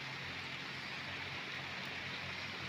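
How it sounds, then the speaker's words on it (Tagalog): Rain falling steadily on a rainy morning after a long night of downpour, a constant faint hiss of drops with no breaks and no voices. "Kanina pa tong ulan, no?"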